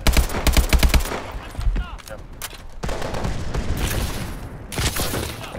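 Rapid bursts of automatic gunfire from a Call of Duty: Advanced Warfare weapon, loud and clustered at the start, then scattered shots and explosive game effects under a voice.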